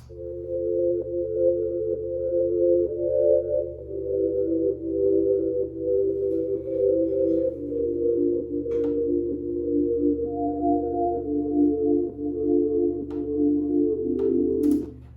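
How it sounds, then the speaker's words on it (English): A soft, steady synthesizer holds sustained chords that shift every few seconds over a low constant hum, with a small click near the end. "synth on its own without the bass underlaying part is this."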